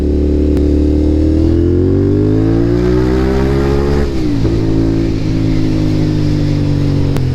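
A CFMOTO 450 SR motorcycle accelerates on a night city ride, its engine note climbing steadily in pitch, dipping briefly at a shift, then pulling on again, loud and close with constant wind rush.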